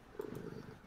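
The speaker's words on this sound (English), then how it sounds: "Oh, I hear a cat purring." A cat purrs close by, a low, rough, continuous rumble with a slightly louder onset near the start, heard alone.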